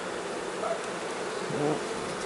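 Honeybees in a hive left without a queen, agitated and restless, giving a steady dense buzz that stays close and fairly loud throughout with small swells.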